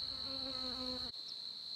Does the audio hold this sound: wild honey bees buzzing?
yes